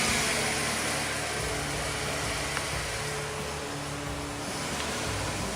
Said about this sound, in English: What's with this engine? Blown head gasket.